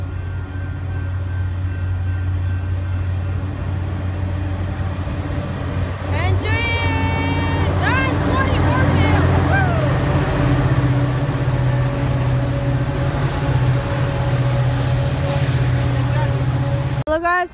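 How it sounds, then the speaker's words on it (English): At a Burlingame, California station, a Caltrain commuter train led by F40 and MP36 diesel locomotives rumbles steadily past with a low engine drone, squealing wheels and a brief horn blast, and someone talks and cheers nearby. "here comes Caltrain 386"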